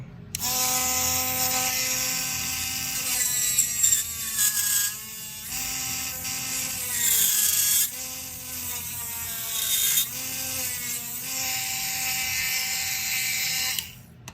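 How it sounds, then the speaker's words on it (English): A small Dremel rotary tool grinds an exhaust part with a steady high-pitched whine that dips and recovers as it bites the metal, loud and close for the whole stretch. "We're hitting here on the back side, so I need to grind a little bit of this back."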